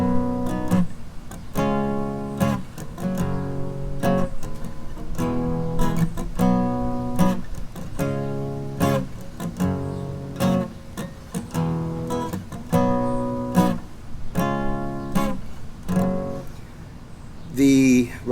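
Guitar strums a repeating four-chord progression in the style of a song, moving through the I, IV, V and flat VII chords in one key, with steady rhythmic strumming played alone and close.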